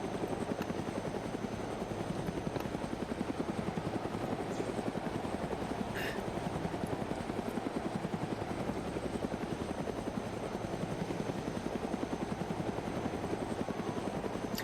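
Military helicopters, a Chinook and a Huey, run in the video game ArmA 3, giving a continuous, rapid rotor chop with a steady engine whine that stays constant throughout, with no voices.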